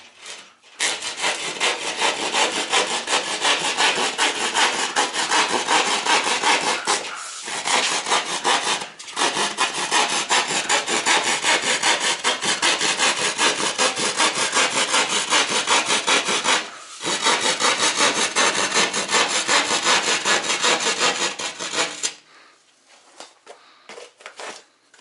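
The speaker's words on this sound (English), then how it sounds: "And I can just use my drywall saw." A drywall hand saw cuts through drywall in a kitchen renovation, a continuous rasping stroke-by-stroke sawing close up for about twenty seconds with a few short pauses.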